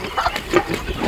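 Two small piglets on a farmstead grunt and squeal in short, close, overlapping snorts, a busy burst of pig noises over just over a second.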